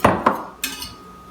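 Semi-sweet chocolate chips, 18 ounces, being mixed in a bowl: a few sharp clinks and knocks of a utensil against the bowl, close and fairly loud, then a quieter tail with no talk.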